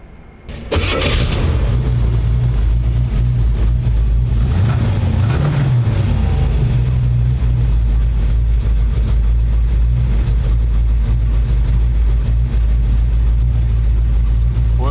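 A 1932 Ford three-window hot rod coupe with a 350 V8 and Tri-Power carburetion cranks briefly, fires loudly, blips, then settles into a deep, steady, rumbling idle close by.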